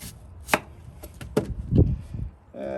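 Onion being chopped with a knife on a cutting board, a few sharp, separate cuts landing unevenly, close and clear, with no one talking.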